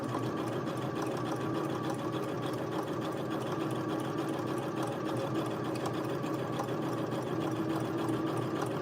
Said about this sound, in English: let's see what happens when I embroider that way with the zigzag